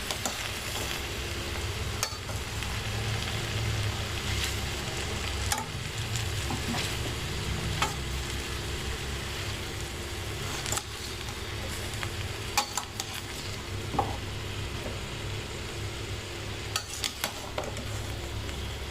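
Broccoli stirred and frying in a pan, a steady sizzle with scraping utensil strokes against the pan and occasional clinks, continuous and close.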